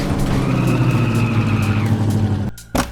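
A semi truck in the video game Factory Outlet Simulator drives with a steady, loud engine drone and a rising whine, then cuts off abruptly near the end.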